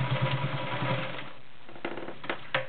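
A Morse Fotomatic III 4300 sewing machine in near-mint condition stitching through three layers of garment leather, running in a steady rapid mechanical chatter that slows and stops, followed by a few brief clicks, close and alone.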